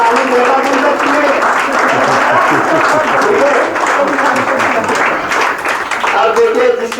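Sustained loud clapping from a class audience at a farewell gathering, a thick continuous patter of many hands running the whole stretch, with some voices underneath.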